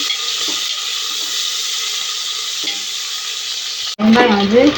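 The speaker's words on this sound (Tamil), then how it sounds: "அதுக்கு வெங்காயத்தை போடலாம்." Onions and green chillies fry in hot oil in a Coimbatore-style home kitchen, a continuous close sizzle and hiss with a few faint stirring scrapes, then a brief louder clatter at the end.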